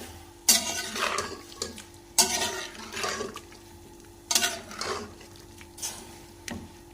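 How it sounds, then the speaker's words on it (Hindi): A spoon stirs whole spices, salt, turmeric and red chili in a pot for chicken biryani with potatoes, giving a few scraping clinks and rustles at irregular intervals, close by. "अच्छे से मिक्स करते हैं।"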